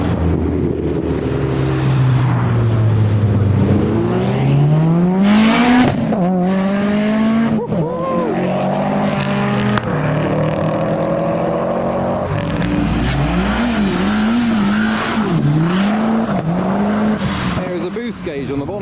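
Modified cars, including rally-style Evos, an Escort and a Fiesta, roar past on a street one after another. Revving engines rise and fall, with turbo whooshes and exhaust pops, loud and close, while people talk over them.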